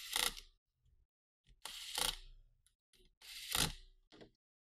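Small screws being driven in to hold a Dell Inspiron 15 5000 series laptop heatsink, heard as three close bursts of faint scraping, clicking screwdriver turns separated by quiet pauses.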